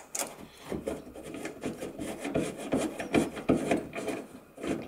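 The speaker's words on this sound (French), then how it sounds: "donc là, la clé à pipe est assez pratique, vous voyez" Socket wrench working a nut on the bonnet of an Opel Mokka while a bonnet strut kit is fitted, a string of close, rhythmic ratcheting rasps and clicks, uneven in loudness, with no talking.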